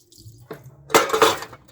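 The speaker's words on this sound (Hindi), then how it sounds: "बड़ी मेहनत होती है फिर बर्तन धोने में।" Dishes, pots and pans being washed by hand in a village home in winter, with a brief clatter of metal utensils and clinking cutlery building to a louder burst of scraping up close.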